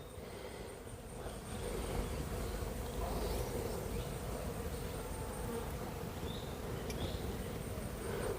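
Stingless bees buzz steadily around an open box of honey during harvest, a dense low hum that carries on continuously throughout, close to the listener, with a few faint higher tones in the background.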